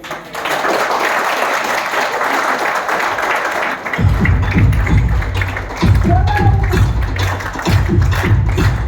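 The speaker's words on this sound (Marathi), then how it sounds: "तर एका टाळ्या होणार सगळ्यांसाठी." A group gathered for a training session in the Lonavala hills applauds together, sustained loud clapping from many hands, joined midway by heavy rhythmic thumping pulses, likely stamping or beats, with the applause continuing throughout.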